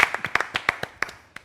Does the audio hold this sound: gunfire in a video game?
no